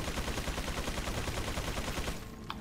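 Rapid gunfire in Resident Evil 4 during the Mike's cover sequence, a dense sustained barrage of shots filling the scene before cutting off near the end.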